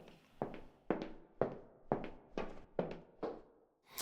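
Heeled shoes click in a steady walking rhythm, seven or eight sharp, close footfalls spaced about half a second apart, recorded as film foley with no other sound.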